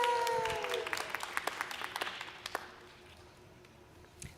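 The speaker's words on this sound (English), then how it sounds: "Everybody's applauding." Audience members at a commencement rehearsal walkthrough clap in a short, scattered burst that thins out into a few isolated claps, faint and somewhat distant, with a brief voice and tone at the start.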